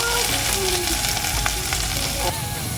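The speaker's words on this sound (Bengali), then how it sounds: "তো পেঁয়াজটা আমি একটু ভাজা ভাজা করে নেব" Chopped onion frying in a pan, a dense steady sizzle with faint stirring, close and fairly loud, no voices.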